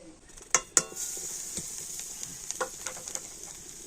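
Grated coconut cooks in a kadai with a faint, dry sizzle, broken by two sharp metallic clinks of a spatula early on and lighter scraping taps afterward.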